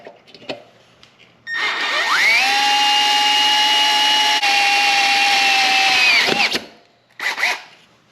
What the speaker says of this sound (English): We're going to drill that hole right there